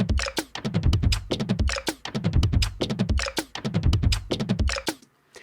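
A percussion loop from a sample collection snaps out fast, tight hits in a busy repeating pattern, close and dry, before stopping abruptly.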